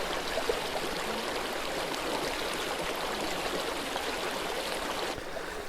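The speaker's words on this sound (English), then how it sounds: "We're filling up a couple water bottles for the night." Water runs steadily through a Platypus filter into bottles while car camping, a continuous close trickling stream with even loudness that eases off slightly near the end, with no voices.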